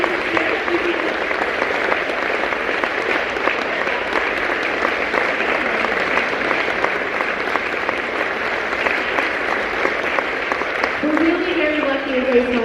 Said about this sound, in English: So please give a round of applause to Miss Joellen and Charlene.